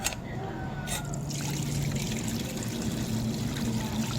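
Liquid poured into a cooking pot during preparation of an Isan-style dish with eggplant and fermented fish, starting with a short clatter and then a continuous close trickling pour, with faint background sound.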